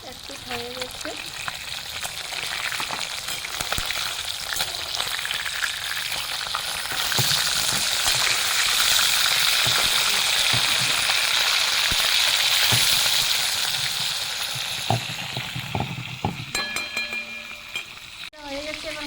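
Fish frying in mustard oil until reddish: a continuous loud sizzle that swells in the middle, with occasional clicks and utensil knocks and a voice speaking briefly over it.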